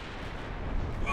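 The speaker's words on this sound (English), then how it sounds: "that was an HE salvo from the Constellation at point blank range" A high-explosive shell salvo from a warship at point-blank range in the naval game Ultimate Admiral Dreadnoughts lands as a short, dense, rumbling blast that fills the whole moment, fairly loud and close.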